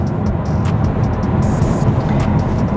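A Volvo EX30 electric car accelerating at full throttle, a steady droning road and motor roar heard from inside the cabin, with faint high whine streaks and no voices.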